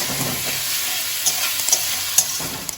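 Chopped onion and green chili hit hot oil for a spicy chana masala, giving a steady close sizzle with a few soft stirring clicks and scrapes, no voices.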